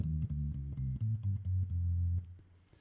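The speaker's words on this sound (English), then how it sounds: "Normally, you play bass lines with your left hand on the lower manual" Organ bass line played with the left hand on the lower manual, a jazz organ-trio setting: a run of short, deep, rounded notes in a bouncing rhythm, ending on one held tone that fades out.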